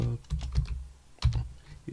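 Quick bursts of keystrokes clatter on a computer keyboard, close and clear, with a short pause before another flurry of taps.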